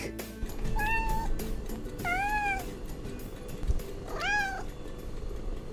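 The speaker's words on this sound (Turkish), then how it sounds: "Balığı da dolaba koyacaktım ama galiba kokusuna bir kedi geldi." A cat meows three times, drawn-out rising and falling cries spaced a couple of seconds apart, heard nearby over faint background noise.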